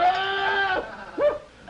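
Cattle calling during loading from a boat, two bleating calls in close succession, the first long and held, the second shorter and rising then falling, fairly near and clear.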